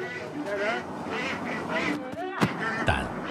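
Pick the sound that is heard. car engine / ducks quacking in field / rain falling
ducks quacking in field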